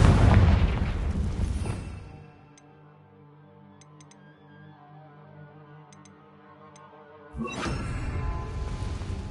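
A Confringo fire spell blast in Hogwarts Legacy bursts loudly, then fades into a lingering tonal ring with faint ticks before another heavy blast hits near the end.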